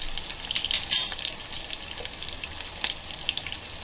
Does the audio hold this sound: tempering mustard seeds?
yes